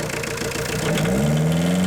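Car engine idling steadily while EGR valve cleaner is sprayed into the intake, a loud close rumble whose pitch rises slightly and settles as the revs shift, no talk.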